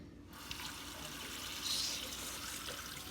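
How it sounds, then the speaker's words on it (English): Hot water runs from a kitchen sink tap into a bowl in a steady, close, hissing stream that swells slightly as it fills, with no talk over it. "I like to pour the hot water from the sink in there."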